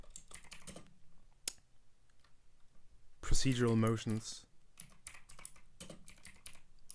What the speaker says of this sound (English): I hope my keyboard isn't too loud.